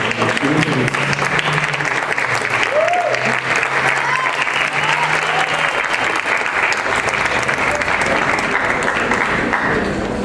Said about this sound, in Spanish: Un fuerte aplauso para el doctor Héctor Zagal